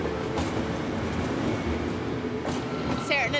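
Inside Glasgow Central station, a steady rumbling wash of train and platform noise fills the space, with a couple of brief sharp clanks and a high squeal near the end.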